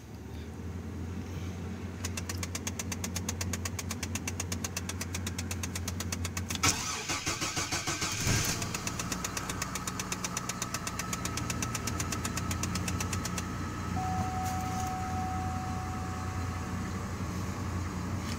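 A 2002 Chevrolet TrailBlazer engine cold-starts in freezing weather on a low battery: a long run of rapid, rhythmic cranking that falters and resumes, then the engine catches and settles into a rough, steady idle, loud and close.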